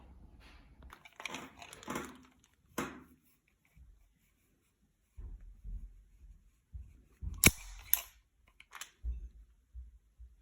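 A CZ Shadow 2 pistol's double-action trigger is pulled repeatedly, giving sharp mechanical clicks and snaps scattered between short quiet gaps, close up and fairly faint.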